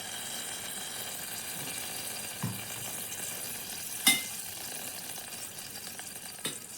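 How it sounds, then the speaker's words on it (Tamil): Vadagam crackles and sizzles in hot oil in a pressure cooker for tempering, a steady close hiss with a few sharp pops and clicks, no voices. "இப்போ வடகம் தாளிச்சிக்கலாம்."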